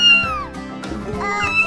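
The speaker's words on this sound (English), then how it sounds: "this is the sound of kittens" Kittens meow in high, wavering cries, several calls overlapping close to the microphone.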